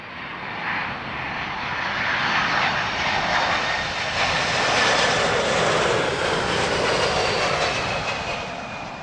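A fixed-wing airliner lands at Heathrow Airport, its engine roar steady and broad, swelling slightly in the middle and easing off toward the end, loud and close with no talk over it.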